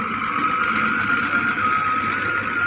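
A Russian tractor engine runs steadily nearby with a droning, even hum and a faint high whine above it, unbroken and without talk.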